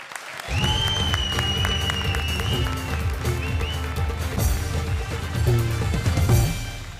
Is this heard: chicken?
no